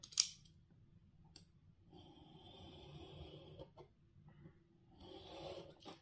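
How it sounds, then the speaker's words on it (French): Scissors snipping through paper while a craft album page is trimmed, a sharp close snip at the start followed by quieter sliding cuts and rustling paper, soft and close with no talking. "Et on coupe."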